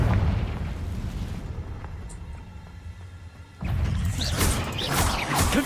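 Confringo fire spell blasts in the video game Hogwarts Legacy: a rumbling, explosive burst that fades into a low hum, then a second louder, crackling blast erupts partway through, with no talking.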